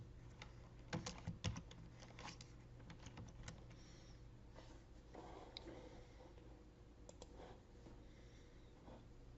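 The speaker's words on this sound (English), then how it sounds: "if I type Bob in here" Typing on a computer keyboard: a short burst of brisk keystrokes, then scattered lighter clicks, quiet and close over a low electrical hum.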